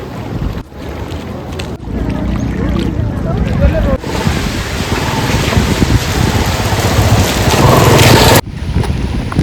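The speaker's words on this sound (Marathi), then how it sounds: "तुम्ही बघू शकताय पाऊस खूप वाढला इथं कसारसाई डॅमला" Heavy monsoon rain pours down at Kasarsai Dam in a dense, steady roar with gusts of wind buffeting the microphone and occasional voices underneath.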